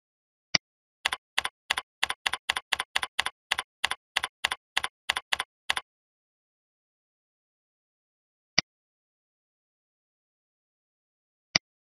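Keystrokes on a computer keyboard: a quick, even run of about seventeen crisp clicks, then two lone taps spaced well apart, close and clear with no talking.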